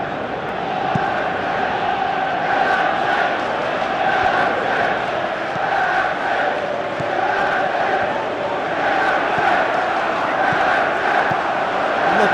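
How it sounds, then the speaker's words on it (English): Football stadium crowd at an Arsenal versus Chelsea Premier League match, a loud continuous roar of many voices filling the ground, rising and swelling in steady waves with no single voice standing out. "you can feel and hear how the crowd are reacting to all of this."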